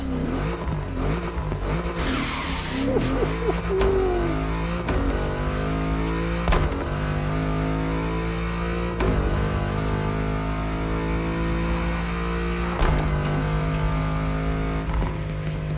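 Car engine revving in The Crew Motorfest on Xbox Series X, a loud continuous engine drone with shifting harmonic tones and a few sharp gear-change breaks, steady throughout with no talking.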